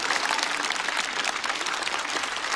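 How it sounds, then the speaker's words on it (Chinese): An audience at a stand-up comedy show claps in sustained, dense applause, loud and even throughout with no break. "掌声送给白小白"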